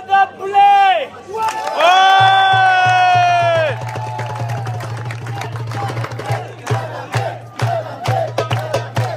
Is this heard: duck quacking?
no